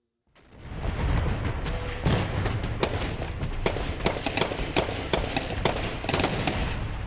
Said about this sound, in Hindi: तड़ातड़ चलती गोलियां, धमाकों की गूंज